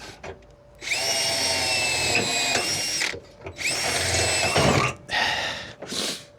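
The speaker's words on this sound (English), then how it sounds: "And drill it from underneath" A power drill whines in several bursts, boring from underneath into a metal fifth-wheel hitch bracket on a 2007 Ford F250, with grinding pauses between runs, close and loud.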